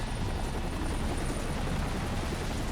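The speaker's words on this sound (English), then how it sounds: "2 helicopters." Helicopters in the video game Viewtiful Joe make a continuous, dense rotor drone with low rumble and broad noise. The sound is steady and loud throughout, with no talk.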